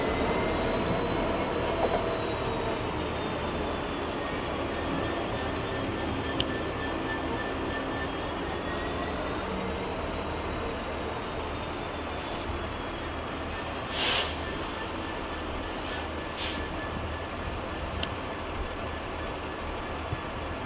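A Class 66 diesel freight locomotive passes through a Manchester station, a steady loud rumble and rail roar sustained throughout, with faint squeals and a brief hiss near the end.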